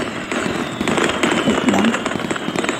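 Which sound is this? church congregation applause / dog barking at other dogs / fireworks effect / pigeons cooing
fireworks effect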